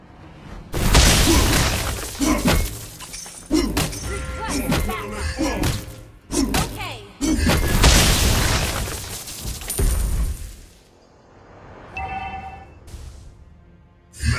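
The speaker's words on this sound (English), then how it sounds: "Your team destroyed the turret!" Crashing, booming impacts as a turret is destroyed in the mobile game Mobile Legends: Bang Bang, with a rapid series of shattering blasts amid busy game sounds.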